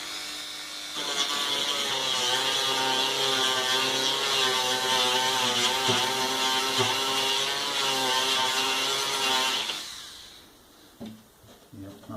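A Dremel 4200 rotary tool smoothing a ridge on a wooden skirting board, a loud steady high-pitched whine with a grinding edge that runs for about nine seconds, then stops, followed by faint handling sounds.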